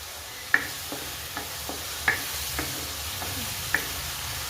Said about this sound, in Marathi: अरे बघा मस्त फ्राय होतोय आता तर बघा पेस्ट छान मस्त फ्राय झाली